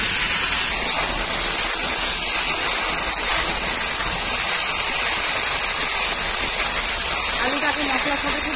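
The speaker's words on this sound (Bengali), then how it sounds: "অল্প একটু জল দিয়ে দেবো মশলাটা কষানোর জন্য।" Potatoes and turmeric-spiced masala fry with a little water added, giving a loud, continuous steamy hiss and sizzle that holds steady throughout, with a voice talking over it.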